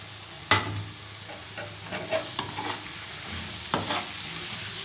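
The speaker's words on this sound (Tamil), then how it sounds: "இதையும் நல்லா வதக்கி எடுத்துக்கலாம்" Chopped ridge gourd with ginger-garlic paste sizzles in a hot pan as a spatula stirs it, giving a steady frying hiss broken by several sharp scraping clicks, heard up close without speech.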